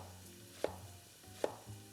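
A knife cuts a small zucchini into quarters, giving two soft, distinct thunks on a board about a second apart, faint over a low background hum, with no speech.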